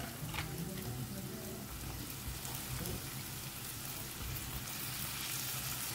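Brinjal frying in spiced oil in a pan gives a steady, close, hissing sizzle with soft crackles and a few stirring scrapes, continuing evenly throughout.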